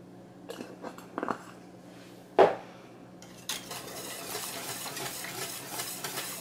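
Metal spoon stirring and scraping thickening pot roast gravy in a pot, a few distinct clinks and knocks early, then a steady soft bubbling simmer and hiss underneath.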